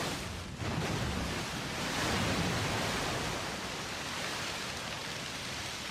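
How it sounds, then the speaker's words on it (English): Rushing water from the Transformers Armada cartoon, a broad steady roar like a heavy torrent or surf, loud and continuous for the whole stretch with no talk over it. "Here comes the water!"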